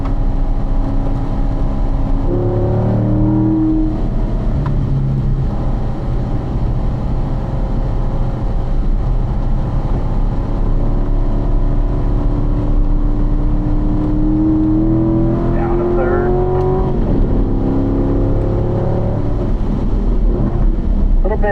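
A car on a race track drops to third gear and works through a corner. The engine drones steadily and the pitch sweeps up and down as the driver lifts and reapplies throttle, with constant wind buffeting on the microphone.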